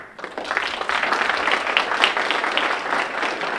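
Audience members at a Democratic breakfast gathering clap their hands on cue, a fairly loud burst of mixed applause that starts sharply and continues steadily without talk.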